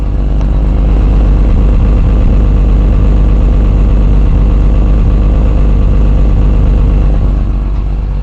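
A car engine idles loudly and close, its exhaust running through the muffler and resonator as a constant, even drone with a faint unevenness like a slight miss.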